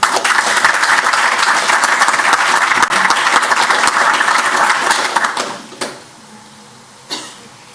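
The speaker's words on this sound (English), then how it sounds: "Please join me in a round of applause." Board of education meeting audience gives a full round of applause for about five seconds before it stops abruptly, followed by a quiet room with a cough and a small knock.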